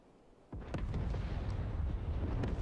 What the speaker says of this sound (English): those Maverick missiles are pretty deadly